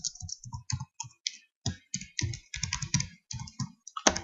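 Keystrokes on a computer keyboard come in quick irregular bursts of crisp clicks with short pauses between words, close and alone in a quiet room.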